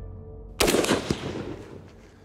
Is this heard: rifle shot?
yes